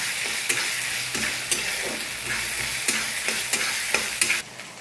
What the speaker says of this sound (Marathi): त्याला पण आता मस्त सॉफ्ट होईपर्यंत फ्राय करून घ्यायचे बरं का.